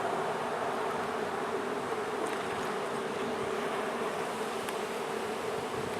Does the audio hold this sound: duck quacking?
no